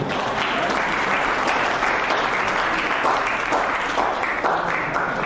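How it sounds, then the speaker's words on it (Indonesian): An audience applauds steadily at an Indonesian youth leadership event, a dense continuous wash of clapping from many hands that holds at an even, loud level from start to finish. "Tepuk tangan untuk kalian dulu."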